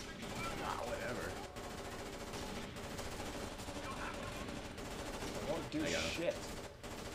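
Bursts of automatic covering gunfire ring out in Rainbow Six Vegas 2 gameplay, rapid rattling shots repeating across the moment under casual player chatter.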